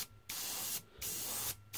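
An airbrush sprays paint onto tabletop miniatures in three short bursts, a close, steady hiss that stops and starts again in back-and-forth sweeps, with no talking.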